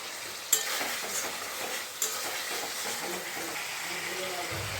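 Ground cumin, coriander and turmeric with a splash of water are stirred in a hot pan for a vegetarian aloo dum, giving a steady close sizzle with faint spoon scrapes and no talking.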